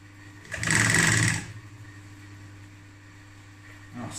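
A sewing machine stitching velcro onto black blackout fabric in a short, loud burst of rapid motor whir that stops abruptly, followed by quiet room hum and a faint start again at the end.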